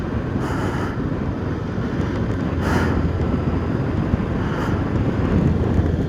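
A Royal Enfield Himalayan motorcycle sets off on a cold ride over Ladakh's Khardung La pass, heavy wind roaring across the microphone above a steady low engine rumble, loud and continuous with no talk.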